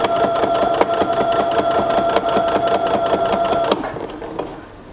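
A sewing machine runs steadily and close, stitching down a pocket on drawstring pants with a fast, even chatter. After about four seconds it slows and fades out.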